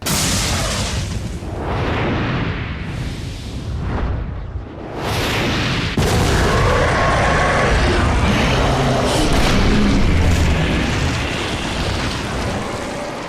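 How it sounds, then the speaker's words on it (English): A rocket launcher blast in a Resident Evil video game produces loud, broad roaring explosions that surge and rumble continuously, with heavy booming low end. "It's the latest ghoul that will fall to an Ada Wong signature rocket launcher."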